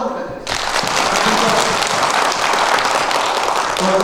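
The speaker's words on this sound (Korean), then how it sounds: "박수 한번 부탁드리겠습니다." An audience at a Korean training-day lecture breaks into loud, sustained applause that starts suddenly and fills the whole stretch with dense clapping.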